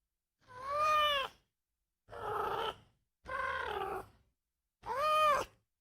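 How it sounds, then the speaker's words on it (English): A cat meows four times in separate drawn-out, whiny calls with pauses between them, close and clear against a quiet background. "I guess that is a cat. It sounded more like a pterodactyl at the beginning"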